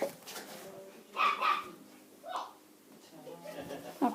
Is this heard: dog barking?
yes